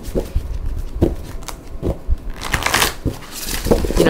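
Gaia Tarot cards being shuffled by hand, a stiff deck that is harder to shuffle, giving close, loud riffling and crackling bursts in an irregular rhythm with no talking.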